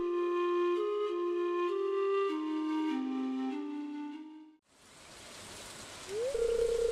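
Rain falls in the video game Stardew Valley, a soft steady hiss that comes in midway after a tonal game melody fades out, with a sustained musical note returning near the end.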